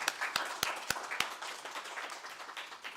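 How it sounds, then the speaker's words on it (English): Sunday church congregation clapping in thanks for a volunteer, with a few loud distinct claps up front blending into a soft, moderately distant round of applause that carries on steadily. "So if you want to give her a clap"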